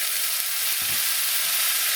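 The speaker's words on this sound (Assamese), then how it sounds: "চাওক মছলাখিনি কি ধুনীয়াকৈ ফ্ৰাই হ'ল" Masala spices fry in a pan with a steady, close sizzle and hiss, broken by a few soft stirring scrapes.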